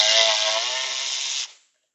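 A power tool spinning out a T45 bolt on a KTM rear shock, one steady high whirring buzz for about a second and a half before it cuts off abruptly, close and loud.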